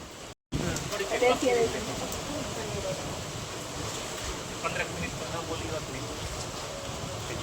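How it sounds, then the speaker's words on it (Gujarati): Heavy monsoon downpour in Kutch, a dense, steady roar of rain that fills the whole clip at close range after a brief silent gap at the start, with faint voices beneath. "મસ્ત મજાના વરસાદથી ફૂલ વરસાદ ચાલુ છે"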